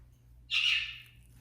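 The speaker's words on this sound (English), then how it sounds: "here's Ducky, my cockatiel" A pet cockatiel lets out a single sharp, bright squawk about a second long that fades quickly, heard close up against a low steady background hum.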